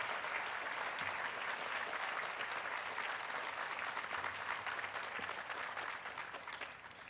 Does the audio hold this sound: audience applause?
yes